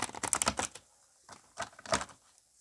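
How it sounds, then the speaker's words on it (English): Tarot cards with fairy and key artwork on their backs being shuffled by hand in a few short papery riffling bursts, close and fairly quiet, with pauses between and no talking. "I'm not the best shuffler"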